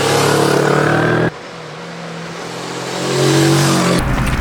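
The engine of a Moto Morini Seiemmezzo 6.5 motorcycle, a 649 cc liquid-cooled inline two-cylinder with eight valves, roars loudly up close, cuts back to a lower drone, then climbs again, with no talking.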